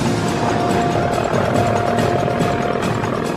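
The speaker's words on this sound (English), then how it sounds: "Helicopters were flying sidewise, backwards, drawing unseen pirouettes in the air" A Russian attack helicopter, the Kamov Black Shark, performs aerobatics such as rolls and loops, a steady loud rotor drone with a faint whine holding throughout with no voices.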